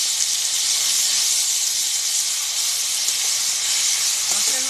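Ground spice paste of onion, ginger, garlic and chili sizzles in hot oil for a chicken and jackfruit curry. A loud, steady, broadband hiss runs unbroken throughout.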